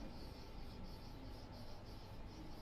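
Pen or chalk writing by hand during a steady-state-error lesson, a soft continuous scratching and rubbing held at a low, even level throughout with no talk.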